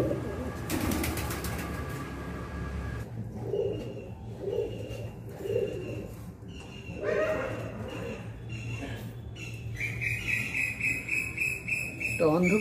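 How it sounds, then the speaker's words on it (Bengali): Andhra tippler pigeons, released from hand, give soft cooing and wing sounds near the microphone, with outdoor ambience, insect chirping and other birds around them. "এই পায়রা টিপলার পায়রা বলে এই পায়রাগুলোকে।"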